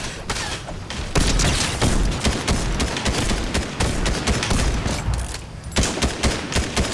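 Rapid bursts of pistol gunfire in a Fortnite match, dense overlapping shots crackling almost continuously and loudly, with brief lulls between volleys.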